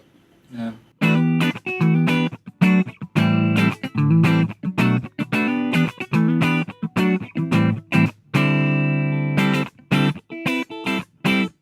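Clean electric guitar chords strummed in short rhythmic bursts with brief gaps, bright and fairly loud, no voices present.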